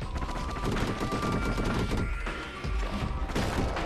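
Rapid bursts of gunfire from a weapon in the action game Bastion, dense and loud throughout with repeated sharp shots and crashing impacts, one brief dip midway before firing resumes.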